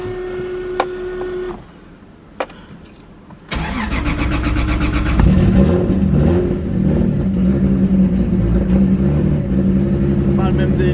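Engine of a high-powered car starting up cold, a short whirring pump and clicks before it fires, then a loud steady idle with a low rumble and a faint whine, close by.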